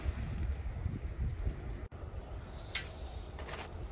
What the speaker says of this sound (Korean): 오늘 바람이 엄청 세군요.